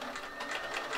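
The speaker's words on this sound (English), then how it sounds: "So I go with my sewing machine" A sewing machine runs steadily while stitching a protective fabric cover, with a continuous fast whirring clatter close up and no talking.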